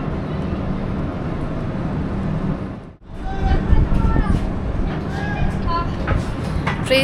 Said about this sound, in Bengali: ট্রেন ছেড়ে দিচ্ছে, সব জায়গায় বেশিক্ষণ দাঁড়াচ্ছে না